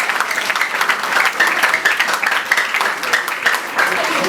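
A church congregation claps during a twenty-first anniversary celebration at an evangelical chapel, giving steady, dense applause that fills the room throughout at a fairly even level.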